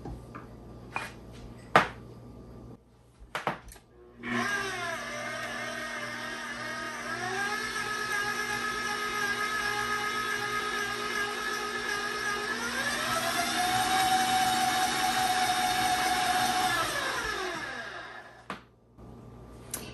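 An electric mixer whirs steadily through cookie dough with an egg added, a loud motor hum that shifts pitch partway through, preceded by a few clinks and knocks and ending as it switches off.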